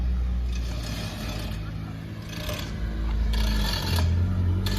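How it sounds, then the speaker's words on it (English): Lowered 1994 Acura Integra on new coilovers, its exhaust scraping and rasping against the ground beneath steady road and engine rumble, with talk over it. "There's definitely some scraping."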